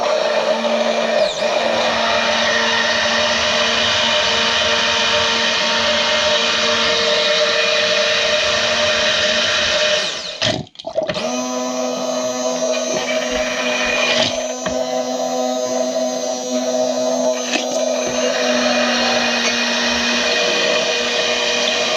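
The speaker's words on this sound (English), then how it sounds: "I got a hand mixer." A hand mixer pulverizes aloe for homemade lemonade, giving a loud, continuous whirring motor drone that cuts out briefly midway and then starts up again at full speed.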